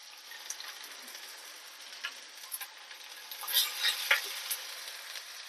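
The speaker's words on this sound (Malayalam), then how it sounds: "നമുക്കിവിടെ അരിഞ്ഞ് വെച്ചിരിക്കുന്ന ചെറിയ ഉള്ളി പിന്നെ വെള്ളുള്ളി ചതച്ചത് ചേർക്കാണ്" Chopped shallots and crushed garlic frying in oil in a pan, a soft continuous sizzle with scattered crackles and a few brighter pops, faint and steady throughout.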